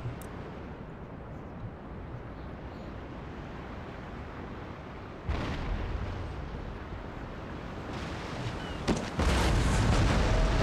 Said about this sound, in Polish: Wali z dziobowych, a my walimy z burdowych dział